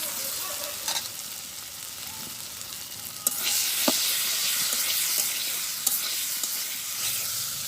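Ripe tomatoes go into a pan of frying spice masala: a moderate sizzle swells into a louder, sustained hiss and crackle, with occasional spoon scrapes and taps. The sound is close.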